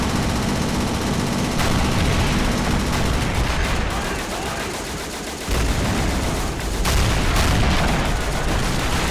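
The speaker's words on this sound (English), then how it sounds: "all sorts of small arms fire running right at you" Small arms fire in Men of War Assault Squad 2 battle game: continuous dense crackle of rifle and machine-gun shots with booms, loud and steady throughout, voices faintly underneath.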